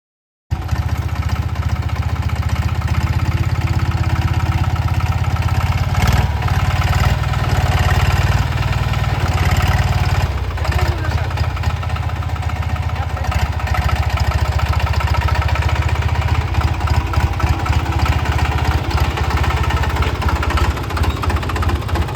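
A Captain 20 HP mini tractor engine chugs continuously nearby, a steady loud diesel idle with rhythmic knocking pulses running unbroken for over twenty seconds, no speech.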